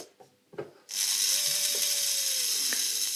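A small Tri-ang model locomotive electric motor without carbon brushes spins up after a few faint clicks, settling into a steady high buzzing whirr close by.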